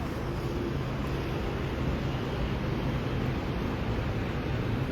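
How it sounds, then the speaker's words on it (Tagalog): Steady wind buffets the microphone on the way to Taipei 101 in Taipei, a constant broadband roar without pauses or talk. "Mahangin pala dito."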